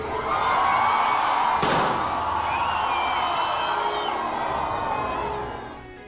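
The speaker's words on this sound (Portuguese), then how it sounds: "Risos, aplausos e muita alegria tomaram conta do shopping." A shopping mall crowd greets Santa Claus with sustained cheering and applause, children's shouts rising over the din, and one sharp bang early on before the noise slowly fades.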